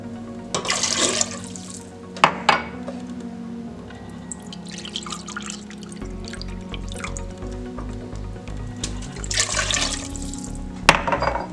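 Water pours into a pan in short bursts, splashing and gurgling, with drips and quiet kitchen clatter between pours.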